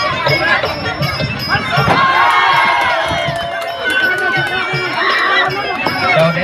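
Crowd at a Muay Thai match in Isan, Thailand, a dense roar of shouting and cheering voices with loud chatter throughout.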